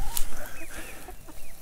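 Backyard chickens cluck and murmur near their coop, a few short calls close by over a little outdoor background noise.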